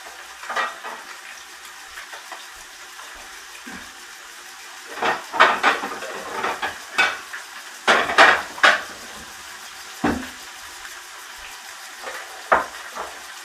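Bronzed trout fillets cooking in a pan on a camp stove outdoors, with a quiet sizzle underneath and a run of sharp metallic clinks and scrapes of utensils against the pan, irregular and close.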